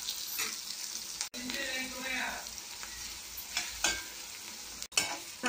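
Onions sizzle in hot oil in a pan for a Telugu-style chicken curry, a steady close frying hiss broken by scraping stirs of a spoon against the pan.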